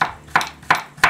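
A knife cuts through garlic cloves on a board for a shallot steak dish, four crisp, evenly spaced chops, close and clear with no talk.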